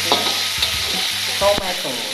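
Shallots and garlic stir-fried in a pan with homemade chicken oil for mie ayam, giving a steady close sizzle broken by sharp scraping strokes of a spatula.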